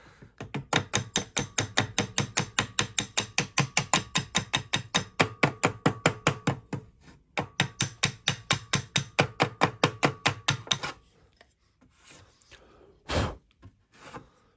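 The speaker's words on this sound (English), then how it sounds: "just dressing out the dents." Dents are dressed out of metal panel work with a steady run of sharp, evenly spaced hammer blows, close and loud, a brief pause midway, then the strikes stop and a few scattered knocks and handling sounds follow.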